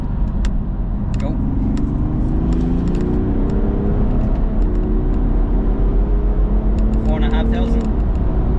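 A BMW 435d runs with a low engine drone that rises and falls in pitch as it drops from fifth to fourth and third gear and pulls away, heard from inside the car under steady road noise.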